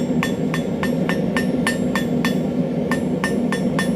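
A hammer strikes hot metal from a propane forge to taper it for a Viking spiral pendant, giving about a dozen sharp, evenly spaced ringing blows over a steady background hum.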